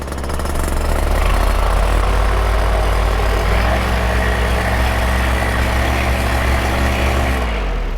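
A paramotor engine runs before takeoff, a loud close buzzing drone that rises and then settles into a steady throbbing rhythm before dropping off at the end.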